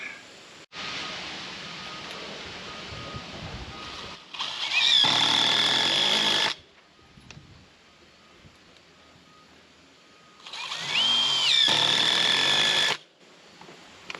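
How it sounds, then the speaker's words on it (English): A power drill drives screws into the subfloor of a tiny house, producing two separate loud whirring bursts of a few seconds each, with quiet pauses between them and no speech. "I guess nothing left but to throw screws in it."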